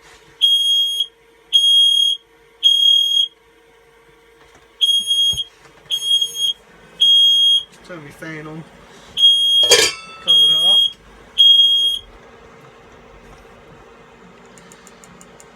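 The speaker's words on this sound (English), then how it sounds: "So the smoke alarm, in the event of a fire, does go off." Campervan smoke alarm going off in repeated loud bursts of high shrill beeping, with pauses between groups, while a person talks and moves about nearby.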